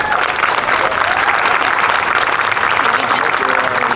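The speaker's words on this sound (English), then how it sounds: "Let's give them a huge round of applause." A crowd at an outdoor Pride festival flag raising claps loudly and continuously, dense applause with scattered voices mixed in.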